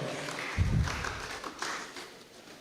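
Applause from an audience after a lecture at a youth media bootcamp, a soft, fairly distant patter of clapping that swells briefly and tapers off.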